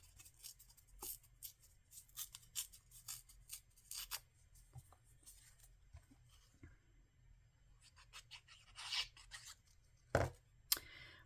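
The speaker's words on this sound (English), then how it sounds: "Maybe I will go ahead and tear it. Tear the bottom of it to give it some more dimension." A piece of cardstock being torn along its bottom edge by hand for card making: a series of short, dry ripping and scratching bursts, close and fairly quiet, irregularly spaced with a sharper tear near the end.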